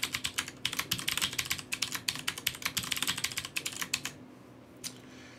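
Quick, steady typing of a username and password on a computer keyboard, a dense run of close clicky keystrokes for about four seconds, then a pause and one last keypress.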